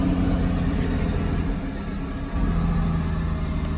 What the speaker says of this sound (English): Sorry about that noise in the background. It's a truck trailer.